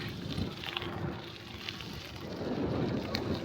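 Steady rain hisses close around a gravel bike riding a narrow country lane on 45 mm gravel tyres, a broadband wash that swells slightly toward the end, with no talk over it.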